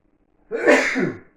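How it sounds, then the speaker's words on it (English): A single loud sneeze bursts out after a moment of silence, close up, with a sharp intake and a breathy release that fades. "I'm going to sneeze."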